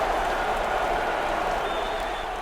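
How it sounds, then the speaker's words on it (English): A crowd roars and applauds after a touchdown in a football video game, a dense, loud wash of cheering that holds steady throughout. "Hear the crowd going, Hughes!"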